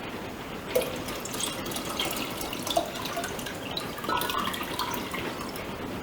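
Water pours steadily into a one-gallon container, a continuous close splashing rush with light dripping and gurgling on top, and no talking.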